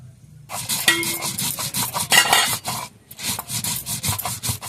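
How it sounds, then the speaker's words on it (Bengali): White and black mustard seeds ground with a little water on a stone, a steady rhythmic scraping and rubbing of stone on stone, close and fairly loud, pausing briefly before the strokes resume. "এবার আমি সর্ষেটা বেটে নেব"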